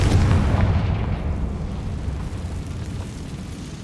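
A Confringo blast spell explodes in the Hogwarts Legacy video game, a loud, deep booming rumble that starts strong and slowly fades over a few seconds, with no talk.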